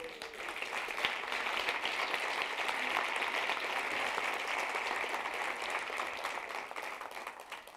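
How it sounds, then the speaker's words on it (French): A lecture audience at a talk on school models gives sustained applause, dense even clapping that holds steady for several seconds with no voices over it. "J'accepte vos applaudissements"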